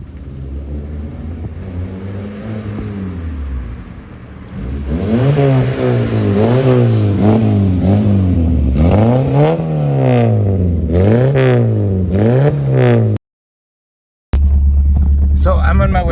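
A car with a new stainless steel exhaust revs repeatedly and loudly in rising and falling sweeps after a steadier cruising drone, with a brief dropout near the end.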